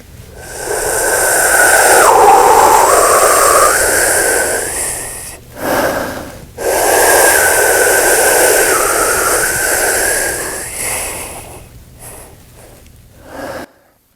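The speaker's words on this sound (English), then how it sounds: "When I practice this, I use finger breathing." A horn player practises finger breathing for the opening duet of Mahler's First Symphony, blowing loud, airy, whistling breaths through the fingers in two long sustained stretches split by a brief pause, with no talk.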